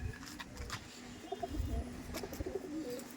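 Tournament-quality Madrasi pigeons cooing close by in a soft, low, repeated burble, with faint chirps and background noise and no talk.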